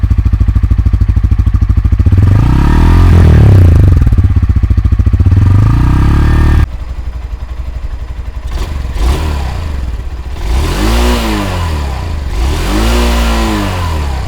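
Motorcycle engine revving hard during a ride, a Bajaj Pulsar N160 or Hero Xtreme 160R, loud and continuous with rising and falling revs, sharp throttle blips and swelling accelerations close by.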